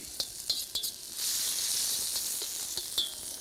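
Red and green chilies sizzling in a pan while being stirred, a close steady hiss with a few sharp scraping ticks near the start and end.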